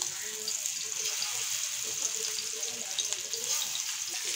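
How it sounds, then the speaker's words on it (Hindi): Fish pieces frying in hot oil on an iron tava give a steady, bright sizzle that holds through the whole moment, close and even, with faint soft background sounds underneath. "अब एक एक करके मच्छी डाल देंगे फ्राई करने के लिए।"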